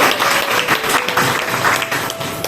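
Audience at a Guru Purnima devotional gathering applauding together, a steady, dense wash of clapping filling the whole stretch at close range with no talk over it.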